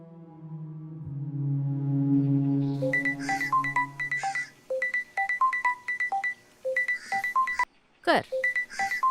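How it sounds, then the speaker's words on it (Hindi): A mobile phone ringtone from missed calls plays loud and close: sustained electronic tones give way to a repeating melodic pattern of bright beeps, broken by a brief swooping sound near the end. "पिंकी दी दिन भर सिर्फ मिस कॉल करती रहती है"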